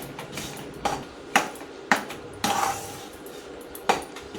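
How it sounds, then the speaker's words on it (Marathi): A spoon stirs a sticky sesame barfi mixture in a metal pan, giving a handful of sharp metallic clinks and scrapes spaced about half a second apart, close and distinct, with no voices. "आता आपल्याला हे सतत ढवळत राहायचं, चांगलं मिक्स करून घ्यायचं असं"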